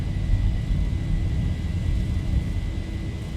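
Boeing 737 engines spooling at takeoff thrust in a flight simulator game, a steady loud low rumble and whir holding even throughout with no talk.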